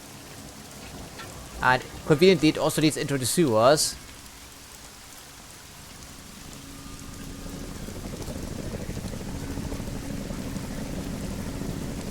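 Steady rain falls over the streets of Prague in the game Deus Ex: Mankind Divided, a soft even hiss that swells after someone speaks briefly at the start and then continues alone.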